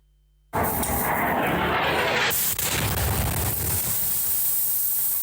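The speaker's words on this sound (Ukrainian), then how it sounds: "Серія потужних вибухів вранці у Дніпрі." A sudden heavy boom erupts in Dnipro during a morning Russian combined attack, followed by a rumbling roar and a second blast partway through, loud and broadband with no voices.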